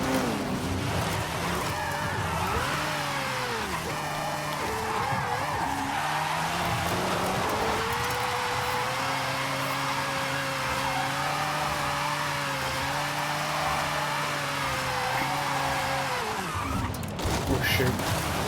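In Forza Horizon 5, a car slides sideways through a long drift, its engine note swooping up and down with sustained revving and tire squeal throughout.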